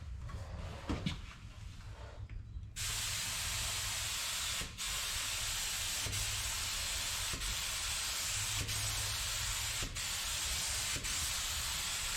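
A spray gun lays down a second coat of paint on a repaired car door, a steady loud hiss after a few scattered bumps, broken by brief pauses every second or so between passes.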